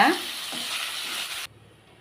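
Tomatoes sizzle and hiss in a hot pan for over a second, with a soft stir near the start, then the sound cuts off abruptly.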